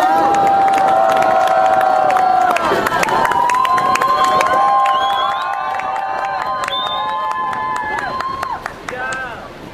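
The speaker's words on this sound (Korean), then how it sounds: "큰 박수로 함께 다음 공연 모셔보겠습니다." A crowd at a student protest rally in front of the Saenuri Party office cheers and claps loudly and continuously, with shouting voices rising and falling over the din.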